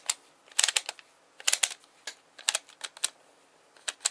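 Ratchet on a model diesel engine being wound, giving irregular clusters of sharp mechanical clicks and ticks, close and fairly quiet, with no talking.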